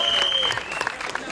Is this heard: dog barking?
no